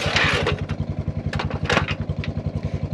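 An ATV engine chugs with a fast, even putter as it drags a cheap harrow over rutted gravel, with scraping clatter and rattling bursts over the motor, fairly close and without talk.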